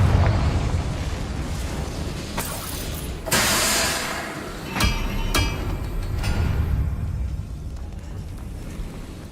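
A Confringo spell bursts in Hogwarts Legacy with a loud, close explosive blast and roaring rumble, followed by further crackling pops and booming hits over a dense, noisy background.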